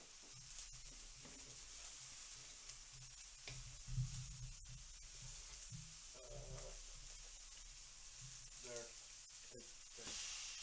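A steak frying in a pan gives a faint, continuous sizzle and hiss in a room, with scattered clinks and background chatter from people nearby.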